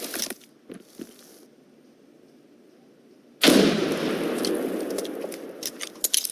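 A frag grenade detonates in America's Army basic training, a sudden loud blast after near silence and a few faint clicks, followed by a sustained roaring, crackling rumble that lingers to the end.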